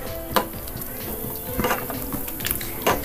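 A spoon stirring tapioca as it boils in a pot, giving scraping and knocking strokes against the metal over a steady bubbling background.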